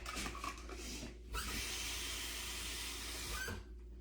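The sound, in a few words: washing hands under running tap water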